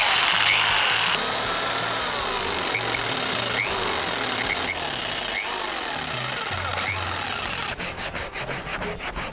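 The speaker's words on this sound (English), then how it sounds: "I will ask Steve to cut this out for me using a jigsaw." A jigsaw cuts through 10mm Sintra foam board with a continuous rasping, buzzing drone, steady and fairly close, with a burst of rapid rhythmic chatter near the end.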